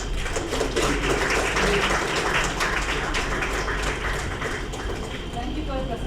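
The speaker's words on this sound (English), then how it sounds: "If no question, once again clapping your hands." An audience at a mathematics conference claps after a presentation, a dense, steady patter of hand claps filling the room at even loudness throughout.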